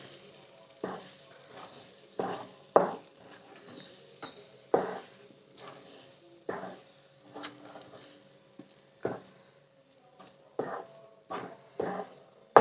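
A sweet mixture stirred with ghee in a pan after the stove is switched off, heard as repeated soft scraping and squelching strokes in an uneven rhythm, close and moderately quiet, with no talking.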